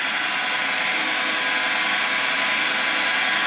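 A homemade 12-inch flat lap lapidary machine's motor hums at a steady high whine with a broad whirring hiss, continuous and close with no talk.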